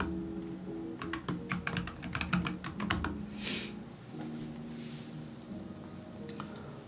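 Rapid clattering keystrokes on a computer keyboard, a dense burst of clicks for a few seconds, then sparse isolated taps, close and moderately loud over a low steady hum with no talking.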